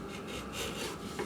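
A freshly sharpened blade shaves a thin curl off the top edge of a piece of wood, a soft, close rasping rub that lasts barely over a second.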